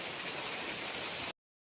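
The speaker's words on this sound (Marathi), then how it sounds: "खूप पाऊस पडत आहे." Heavy monsoon rain pours down in wooded hills, a dense, steady wash of rainfall close by that runs for just over a second and then cuts off abruptly into silence.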